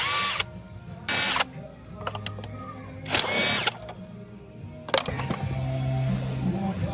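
A ratchet loosens the three size 10 bolts on a Honda Click 125 scooter, with short bursts of rapid clicking separated by pauses, close and fairly loud, with some faint mechanical clatter.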